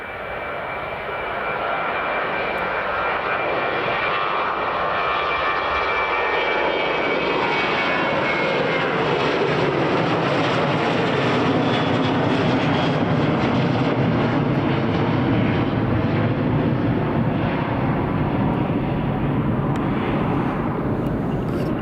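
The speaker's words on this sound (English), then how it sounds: "there is a tailwind, so all these takeoffs are going slightly longer" An airliner taking off with a tailwind at Edinburgh Airport, its engine roar building quickly and then holding as a loud, steady, broadband rumble that fills the whole stretch with no talk.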